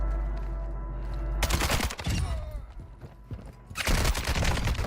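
Bursts of automatic rifle fire from an M13C in the shooter Call of Duty DMZ, with loud sustained volleys near the start and end and a quieter gap between, with scattered shots and game sounds.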